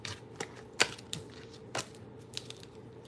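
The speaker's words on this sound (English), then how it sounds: "I'm gonna shuffle those." Tarot cards are shuffled by hand close up, making a scattered series of sharp card slaps and clicks at irregular intervals against a quiet room.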